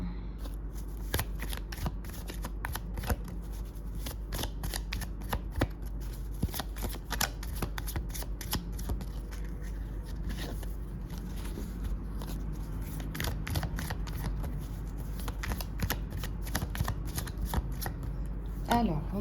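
Tarot cards shuffled and cut by hand during a love reading, a steady papery riffle and slap running throughout, close and clear under occasional low speech.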